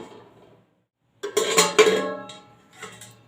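Metal pot lid set down on a pan of raw mangoes boiling in water in a home kitchen, a bright clattering clank with ringing metallic overtones, followed by a softer second clink.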